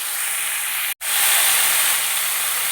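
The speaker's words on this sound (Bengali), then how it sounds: "গ্যাস জোর করে আমি ভেজে নেব।" Vegetables for shukto, seasoned with a pinch of turmeric, fry over high gas in a pan, giving a loud, steady hiss that cuts out for an instant before resuming strongly.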